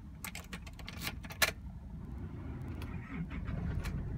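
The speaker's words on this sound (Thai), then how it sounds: "กุญแจตัวนี้ที่มีชิป GKM สามารถสตาร์ทรถได้ลองทดสอบดูนะครับ" An Isuzu car's engine is started with a cloned GKM chip key, giving a brief crank and catch amid a steady low idle rumble, with faint key jangles and clicks nearby.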